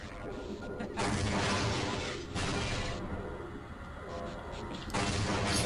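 Explosions in the first-person shooter Half-Life go off in a series of loud, crackling blasts, each burst lasting about a second with rumbling debris between them.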